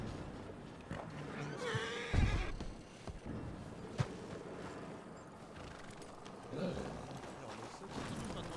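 A horse whinnies in a Western role-play video game, a loud near neigh followed by scattered hoof clops and a later softer snort, with people talking over the background.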